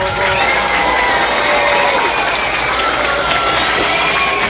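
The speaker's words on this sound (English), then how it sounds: "All right, give yourselves a round of applause." Students cheering and applauding, a loud crowd of young voices shouting and whooping over scattered clapping, sustained and energetic throughout.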